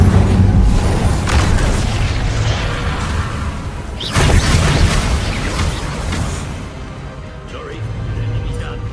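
A fire spell bursts in Hogwarts Legacy, booming whooshes of flame erupting loudly and close in two or three heavy surges, surrounded by rumbling combat noise and faint voices.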